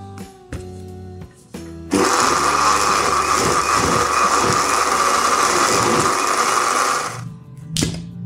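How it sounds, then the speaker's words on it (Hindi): A mixer-grinder jar grinds dates for tamarind chutney: a few short knocks come first, then a loud, steady motor whir runs for about five seconds before cutting off. "अब खजूरों हम जग में डाल के ग्राइंड करेंगे।"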